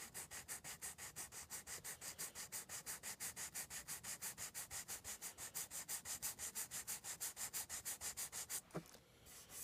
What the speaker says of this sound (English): sand it flat